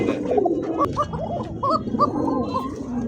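Pigeons coo in soft, repeated throaty warbles close by, layered over a low rumbling background.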